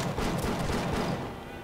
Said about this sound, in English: Do I need to start using pistol shots, I guess?